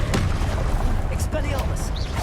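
Spell blasts and fiery bursts crackle through combat in Hogwarts Legacy, a dense, loud wash of booming impacts and whooshes with a couple of sharper bright flares, continuous over the whole stretch with a voice shouting spell names over it.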